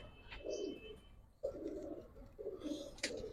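Khaki pigeons coo softly in a series of low, throaty phrases, three or four rolling calls in quick succession with a faint higher chirp between them.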